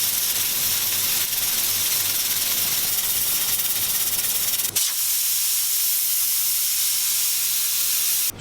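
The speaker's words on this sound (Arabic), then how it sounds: "نرجع نحط الغطا وبدنا نسكر البريستو" A pressure cooker with green beans inside hisses steadily and loudly as it builds pressure, a continuous broadband rush that cuts briefly and resumes.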